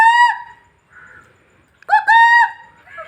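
A chicken calls nearby, two loud bursts of harsh, honking clucks separated by a short quiet gap, with a fainter call in between and at the end.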